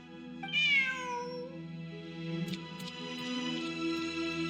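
A single drawn-out cat meow in Genshin Impact rises then falls, heard over a steady humming background with a few faint clicks afterward.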